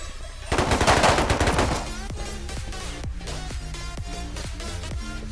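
Semi-automatic pistol firing in a video game: a dense, loud burst of overlapping shots, then a steady run of sharp, evenly spaced reports over a sustained tonal background, with no talking.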